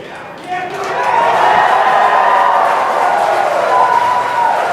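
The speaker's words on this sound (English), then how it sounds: "you can hear some really loud cheering in the room." Loud crowd cheering and shouting swells up after a brief moment and holds as a steady roar filling the room, following a Crew Dragon launch escape demonstration in Kerbal Space Program.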